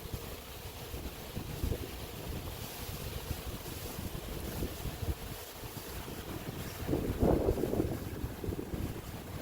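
Wind buffets the microphone outdoors during a honey bee swarm capture, a steady low rumble that runs throughout and swells into a stronger gust near the end, with no talking.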